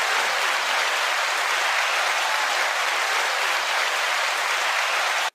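Audience applause rolls on steadily for about five seconds, a dense, even wash of clapping with no talk, then cuts off abruptly.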